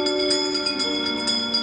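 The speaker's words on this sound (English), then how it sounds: "give us a hint by ringing a bell" A bell rings repeatedly in quick, steady strokes, bright and resonant with a lingering hum between strikes, from the Haunted Mansion soundtrack.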